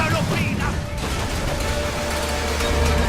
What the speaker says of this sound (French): Il tire une bordée, attention.